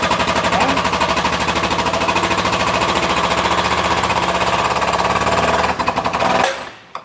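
A rapid, loud mechanical hammering rattles nonstop for about six seconds in a workshop, close by, working on a Land Cruiser 80 Series radius arm, then cuts off abruptly with a brief final knock.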